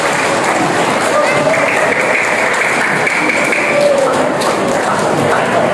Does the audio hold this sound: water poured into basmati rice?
no